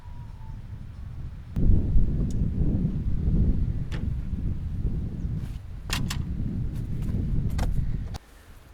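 A car being raised with its original jack: repeated low mechanical cranking and rustling, with scattered metallic clicks and clanks, close by and steady for several seconds before stopping.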